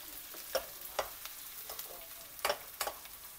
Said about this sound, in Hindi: तकरीबन चार प्याज ब्राउन हो गया. ये मास्टर शेफ प्याज ब्राउन करते हुए